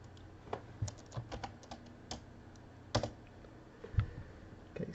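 Typing on a computer keyboard, a sparse run of quiet, irregular key clicks with a few sharper strokes, close and alone with no talk.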